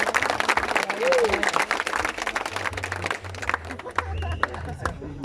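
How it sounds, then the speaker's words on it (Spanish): A crowd claps in a burst of applause for athletes at a municipal anniversary celebration in Muná, gradually thinning out, with voices and cheering mixed in. "Un fuerte aplauso nuevamente para ustedes."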